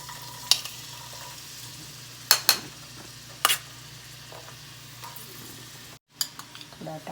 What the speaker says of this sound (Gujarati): તેલ ગરમ થઈ ગયું છે એમાં આપણે ડુંગળી નાખીશું